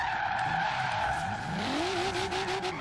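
Tires squeal as an engine-swapped Nissan Silvia drifts in the racing game Forza Horizon 3. A steady engine drone runs underneath and the squeal rises in pitch partway through, loud and continuous.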